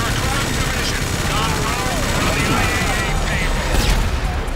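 A helicopter and gunfire from the game GTA V during a shootout, with steady rotor drone and rapid bursts of shots, loud and dense, while voices shout over the din.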